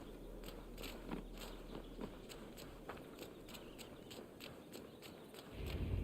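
Horse hooves clip-clopping in Assassin's Creed Valhalla, a steady walking rhythm of soft thuds at moderate distance over a continuous low game ambience, with no talk.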